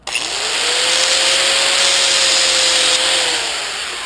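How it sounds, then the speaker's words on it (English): An angle grinder cuts into scrap metal to test it for brass, a single loud continuous whine that starts abruptly, holds a steady pitch, then winds down, close and alone. "I just usually have the grinder handy when I'm doing this."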